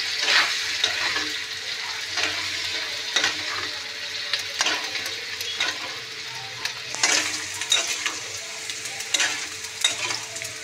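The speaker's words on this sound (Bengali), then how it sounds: "এবার এর মধ্যে আমি এই পেস্টটা ঢেলে দেবো" Spice paste fries with potatoes in a pan, giving a steady close sizzle. Repeated scraping stirs run through it, with no talk.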